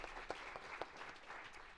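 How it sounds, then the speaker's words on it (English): Audience applause at a girls' leadership summit, a faint, steady crowd clapping with a few sharper individual claps standing out, fairly distant throughout. "I think we should all give her a round of applause"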